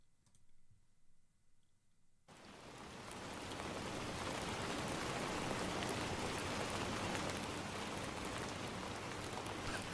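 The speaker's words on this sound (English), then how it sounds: "We need some rain noise, folks." Rain noise for sleep ASMR begins after a quiet opening, then a dense, steady patter of raindrops on a surface carries on evenly and fairly loud to the end, with no voices.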